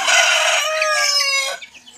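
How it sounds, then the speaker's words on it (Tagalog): A two-month-old chicken hatched in an incubator gives one loud, close crow that trails off into a short, softer fade. "Kung napanood nyo yung dati kong vlog na about sa mga sisiw, yung na-hatch natin sa incubator."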